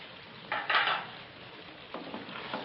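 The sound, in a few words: stirring spices into chicken korma in a pot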